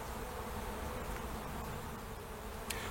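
Honey bees in a strong overwintered hive colony holding eight frames of bees, a steady, dense buzz that hums evenly throughout with no voices.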